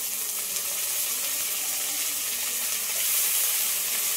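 Potatoes frying in oil with turmeric, giving a constant soft sizzle of hot oil at moderate distance with no voices.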